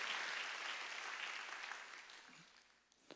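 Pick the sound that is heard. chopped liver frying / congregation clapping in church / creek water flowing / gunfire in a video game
congregation clapping in church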